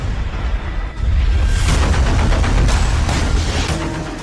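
Loud rumbling blasts and booms from air-defense interceptions roll through the sky, several overlapping explosions in quick succession after a brief quieter opening.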